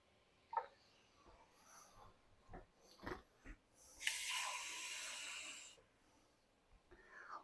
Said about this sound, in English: We can use some tap water.